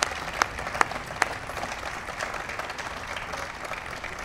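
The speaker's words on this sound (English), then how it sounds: "Please give them a big round of applause." A small crowd at a presidential bill signing claps briefly, a few sharp claps up front settling into soft, scattered applause that fades.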